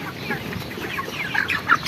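Broiler chickens cluck and chatter in a poultry shed, a busy overlapping flock sound of short calls rising toward the end, with a voice faintly underneath.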